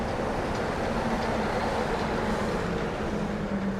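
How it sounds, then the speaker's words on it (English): Walt Disney World monorail running past near the Polynesian resort, a steady rumbling whoosh with a faint hum, continuous and fairly loud over the whole stretch with no talking. "Monorail."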